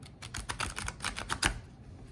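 Tarot cards are shuffled in a quick, soft riffle of rapid crisp clicks lasting under two seconds, close up and faint.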